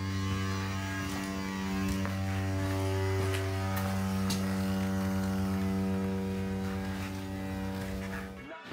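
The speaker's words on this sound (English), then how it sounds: "That sound you're hearing is the sound of your wastegate solenoids acting up." A steady electrical buzzing hum from a faulty wastegate solenoid on a Cadillac CTS-V Sport after engine shutdown, droning continuously at even loudness with faint ticks, then tapering off at the end.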